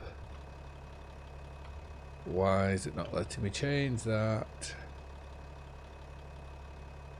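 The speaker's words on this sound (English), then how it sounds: "Let's start the engines and fill it up." Tractor engines idle in Farming Simulator 25 as a steady low rumble that runs throughout, with someone talking over it briefly in the middle.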